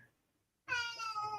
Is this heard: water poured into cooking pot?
no